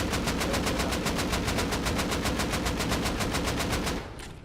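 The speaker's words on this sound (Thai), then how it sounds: "พี่ยิงเลยข้างบนอ่ะเอาเหล็กกระสุนดำยิงดีกว่า" Sustained automatic gunfire during a raid in the survival game Rust, a loud, steady, rapid stream of shots for about four seconds that then cuts to a quieter tail.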